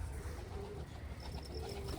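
Pigeons of a Malwai breed coo in a loft, low soft calls running continuously at moderate distance with a faint higher chirp-like tone near the end.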